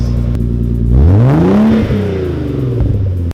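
A Nissan 300ZX Z32 Fairlady Z engine idles, then revs up sharply through its exhaust and falls back, a smooth inline-six-like tone, close and loud.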